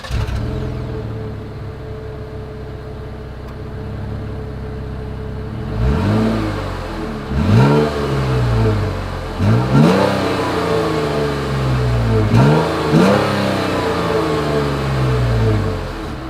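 A 2021 Jeep Cherokee's exhaust idles low and steady, then is revved four times in quick succession, each blip climbing and falling back, heard up close with no talking.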